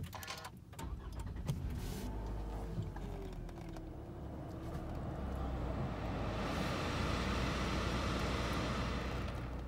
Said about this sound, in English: I'm just going to start it up for you now.